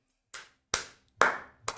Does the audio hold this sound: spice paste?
no